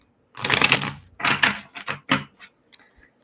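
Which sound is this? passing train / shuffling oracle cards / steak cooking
shuffling oracle cards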